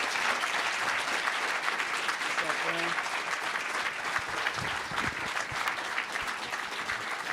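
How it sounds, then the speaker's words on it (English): Continuous, even applause from an audience at a book launch gathering, a full sustained round with faint voices mixed in beneath the clapping. "But again, please give another round of applause for Jesse."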